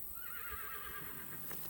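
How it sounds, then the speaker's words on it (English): A horse whinnies on a farm property near Charlottesville, Virginia, a faint drawn-out neigh with wavering pitch heard at a distance and alone, hooves faintly clip-clopping beneath it. "If you just heard a horse neighing, it's because there's horses on the property"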